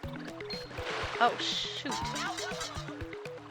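A character falls into water in the game Paper Mario: The Thousand-Year Door, making a splashing, bubbling rush over upbeat game music while a player exclaims.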